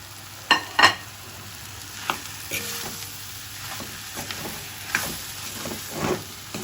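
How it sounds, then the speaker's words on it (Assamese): Potato pieces frying in a spice mix for egg chops, a soft continuous sizzle broken by sharp scraping clicks and knocks of a spoon stirring against the pan, with no talking. "আলুখিনি দি পেলাই অকণমান ফ্ৰাই কৰিম এতিয়া মই"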